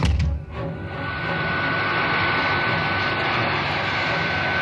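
A solar-powered robot plane's engine roars steadily and loudly as it climbs steeply, a broad sustained rush with a rising tone as an audio drama effect, alone without voices.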